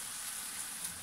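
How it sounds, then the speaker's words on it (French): Ground beef fries in a pan with a steady, loud sizzle, a constant crackling hiss from start to finish and no voices. "on va le cuire quelques minutes pour que le bœuf soit cuit"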